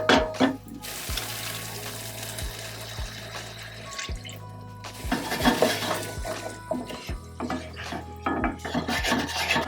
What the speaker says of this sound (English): Now we're gonna add about 3/4 of a cup of broth each time.